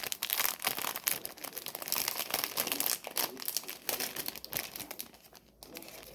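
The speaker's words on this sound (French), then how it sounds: "Je vais essayer d'ouvrir pour voir les tissus" Parcel of fabrics being unwrapped, its plastic packaging crinkling and rustling continuously and close by, with sharp crackles and brief tearing-like bursts throughout, no talking.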